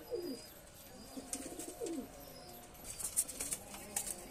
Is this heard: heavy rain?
no